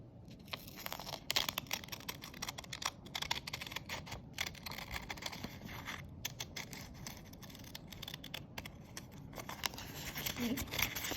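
Scissors cut out a paper shape, giving a faint, steady series of small snips and paper rustles close by, with no talk over them.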